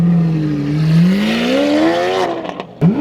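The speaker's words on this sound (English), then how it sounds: "We're keeping up with the Aventador and the Vanderhall on cue." A Lamborghini Aventador S and a Vanderhall drive nearby, an engine note climbing steadily in pitch as it accelerates before cutting off sharply, then a brief second rev at the end, loud and close with no voices.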